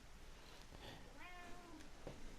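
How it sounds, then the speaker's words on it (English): A cat meows with a rising, drawn-out call in Final Fantasy XIV: Endwalker, sounding close and clear over a steady background of game ambience. "My cat's here."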